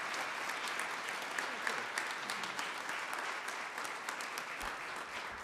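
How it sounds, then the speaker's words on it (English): Applause for volunteers at a city council meeting: a dense, even roar of clapping from a seated crowd, moderately distant and sustained for the whole stretch, with faint murmuring underneath. "Let's give them another round of applause."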